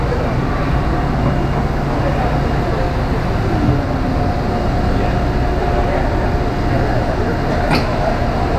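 A QA1 shock absorber cycles up and down on a dyno, giving a continuous mechanical hum and droning rumble in a factory setting, with a brief sharp click near the end.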